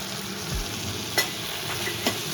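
Ginger-garlic paste sizzles softly in a hot pan of oil while being stirred, a steady low fry with a few brief scrapes and clinks of the spoon; no one speaks.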